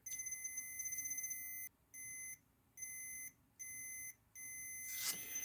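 A multimeter continuity tester beeps on a faulty hair dryer that isn't heating, a high electronic beep in a series of separate tones, some short and stuttering, others held, ending with a brief scrape.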